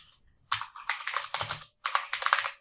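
Brisk typing on a computer keyboard while entering text in Adobe Premiere Pro 2021, close, clattering keystrokes in three quick bursts separated by brief pauses, with no voices.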